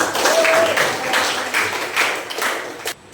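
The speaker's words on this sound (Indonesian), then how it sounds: "Oke, kita tepuk tangan." A classroom of students clapping for a few seconds, a fairly loud, steady patter of hands with some irregular louder claps before it stops abruptly near the end.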